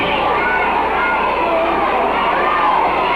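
A jam-packed crowd roars loudly and continuously in a 1970s Memphis wrestling arena during a battle royal match, a dense wash of cheering and shouting with no pauses.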